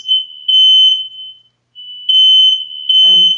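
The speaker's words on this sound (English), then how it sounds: "There's some sort of alarm going off here." A fire alarm shrieks in loud, piercing high-pitched bursts, sounding twice with a short pause between, heard over a podcast recording while a voice starts talking briefly at the end.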